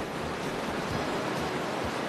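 Rapids of the Dudh Kosi river in the Everest region, a dense, constant roar of rushing whitewater, loud and close with no pauses.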